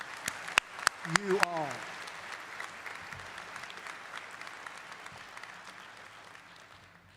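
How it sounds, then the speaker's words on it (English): Graduation ceremony audience applauding the new graduates, a steady wash of clapping that swells after a few loud close claps and a brief spoken voice, then slowly fades over several seconds. "A warm applause, please, to recognize"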